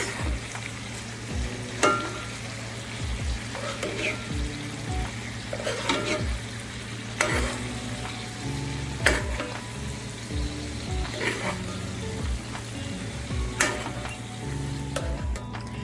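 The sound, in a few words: ribeye steak sizzling in pan while being basted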